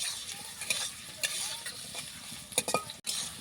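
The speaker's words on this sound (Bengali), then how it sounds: "প্রথমে আমি গাজরগুলি ভেজে নেব। গাজরগুলি ভালো করে ভেজে তারপর মরিচগুলি ভেজে নেব।" Carrots sizzle in oil as a spatula stirs them, the steady frying hiss punctuated by scraping strokes against the pan, close and fairly quiet.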